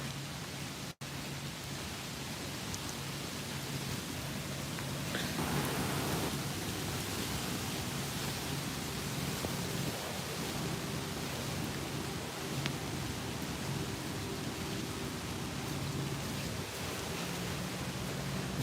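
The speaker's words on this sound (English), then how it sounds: "As you can see, it's been raining out for quite some time" Steady outdoor rain at Victory Mills Fire, a broad even hiss that holds constant throughout with no voices, just a few faint bumps.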